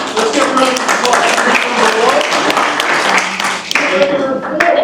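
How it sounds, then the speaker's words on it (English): Applause for a workshop group at a parks and recreation master plan meeting, with dense clapping filling the room alongside crowd chatter and voices throughout. "Let's give a round of applause"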